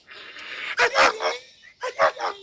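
A police dog barks in close, sharp bursts, two quick barks, a pause, then two more, loud and harsh over faint background noise.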